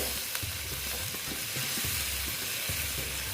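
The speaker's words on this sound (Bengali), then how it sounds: "এখন আমি একটু জল দিয়ে দিচ্ছি বেশি দেবো না জল" Eggplant sizzling hard in a pan as a little water goes in, a dense continuous hiss with low bubbling pops underneath, close and loud, no voices.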